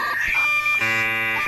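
A South Korean emergency alert system alarm sounds as loud, steady electronic tones: a shifting two-tone pattern first, then a sustained buzzing chord.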